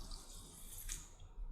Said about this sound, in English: So you can hear the water inside.